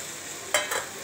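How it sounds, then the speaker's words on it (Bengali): Gati kachu and prawns being stirred in a sizzling pan, with a steady frying hiss and two quick close scrapes of the spoon, and no talk. "এবার ভালো করে নাড়ব।"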